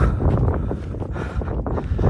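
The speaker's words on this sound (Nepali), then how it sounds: "अब चाहिँ हावा चल्नु थाल्यो, चिसो बढेको छ।" Wind on the Mundhum Trail in Nepal buffets the microphone in a continuous low, rumbling roar that gusts slightly stronger and weaker throughout.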